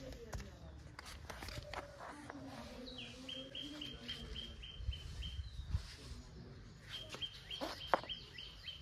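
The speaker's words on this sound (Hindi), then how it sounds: "तो गाइस देखो यहाँ पे एक चिड़िया का बच्चा है" A baby bird that fell from its nest chirps in short, thin, high repeated peeps, fairly faint, amid footsteps, rustling and people talking nearby.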